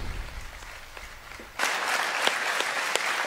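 Scattered claps from an audience at a youth festival morning programme swell abruptly into full, loud applause with both hands, sustained steadily to the end.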